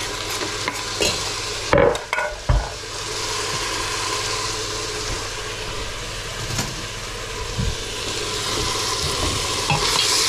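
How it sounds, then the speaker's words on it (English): Onions browning in a pan for lamb curry, a steady broadband sizzle with spoon scrapes and stirring knocks near the start, close and continuous, a low hum underneath and a single brief spoken word. "These onions, I'm going to brown them because I want all the flavor extracted."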